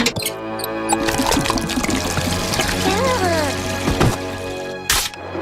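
Liquid pours and gurgles as oil is drained, running continuously through the middle of the clip alongside bursts of clanking and voice-like electronic warbles.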